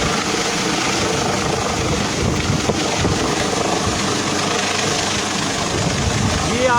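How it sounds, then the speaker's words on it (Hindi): Helicopter approaching over Battagram, a continuous rumbling rotor and engine drone with wind buffeting the microphone, steady and fairly loud, with someone talking over it. "ये आप देख सकते हैं अभी तकरीबन जो हेलीकॉप्टर है वो बिल्कुल के करीब होता जा रहा है"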